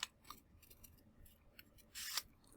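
Scissors snip through folded origami paper, a few quiet close cuts with soft crisp rasps and one longer slicing stroke near the end; no one speaks.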